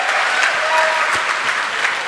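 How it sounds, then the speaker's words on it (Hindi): An audience at an indoor speaking event breaks into loud, dense applause, many hands clapping continuously and evenly for the full stretch, with a few faint tonal sounds under the clapping and no clear voices. "जोरदार तालियां होनी चाहिए"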